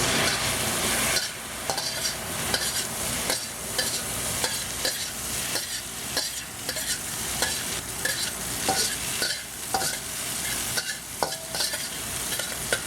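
Shrimp splashed with cooking wine sizzle loudly in a hot pan, with a utensil stirring and scraping in repeated sharp strokes over a steady frying hiss.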